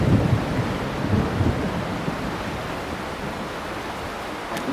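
A steady thunderstorm in the Canadian Rockies, heard from a travel trailer: continuous heavy rain hiss with low rumbling thunder underneath, fairly loud and unbroken, with no voices.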